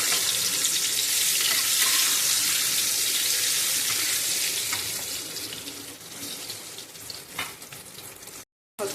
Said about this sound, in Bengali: এখন বেগুন বড়াটা চলছে।